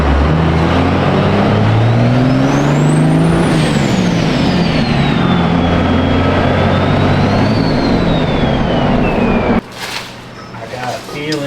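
A Ford truck on full air ride suspension drives along, its engine droning loud and close while a rising and falling whine sweeps overhead, then the sound drops abruptly into quieter road noise.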